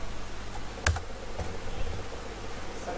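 Someone types on a computer keyboard, producing a few soft, close key clicks with one sharper press, over a faint room hum and without speech.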